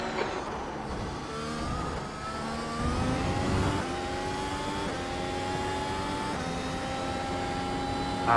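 Simulated race car in iRacing at Circuit Gilles Villeneuve, a loud continuous engine drone with repeated rising revs and gear-shift steps through the lap, no voices over it.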